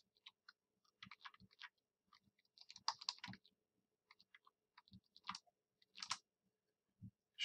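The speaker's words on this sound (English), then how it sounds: "if we type that into a calculator really quickly" Quiet, quick plastic button clicks from numbers being punched into a calculator, coming in short irregular bursts with pauses between, close by and with no talking.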